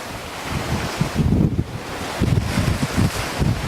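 Ocean waves and wind heard from a sailboat on the open sea between Hawaii and the Marshall Islands, a loud rushing swash of water with gusty wind buffeting the microphone, surging and easing irregularly, no voices.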